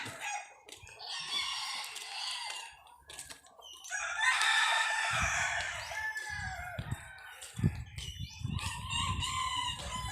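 Roosters crow repeatedly at close range in a zoo, long strident calls overlapping with clucking fowl and other bird noise, with some low thumps and rustling in the background.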